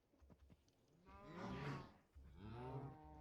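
Minecraft cows in a Create modded survival world give two long, drawn-out moos one after the other, loud and close, with faint clicking game sounds before them.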